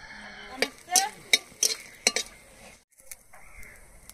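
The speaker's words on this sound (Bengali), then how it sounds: "এবার কড়াইতে একটু সামান্য সরিষার তেল দিয়ে দেবো, শুকনো লঙ্কা ভেজে নেব।" Dried red chillies frying in a little mustard oil in a wok, a light sizzle under a run of sharp metal stirring clinks and taps, fairly quiet and close, ending in a short hush.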